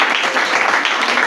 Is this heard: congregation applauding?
yes